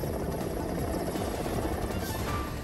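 An Air Force helicopter hovering during a rope rescue of a young man from a rock in a fast-flowing current, its rotor a steady, dense throb with no pauses.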